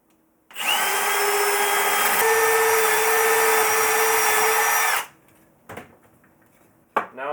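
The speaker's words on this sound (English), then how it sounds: "Now I'll just drill those through onto my second piece." A power drill whines steadily and loudly for about four and a half seconds, boring a hole through a piece of wood for a wooden toy push lawn mower, then stops, followed by a few brief clunks.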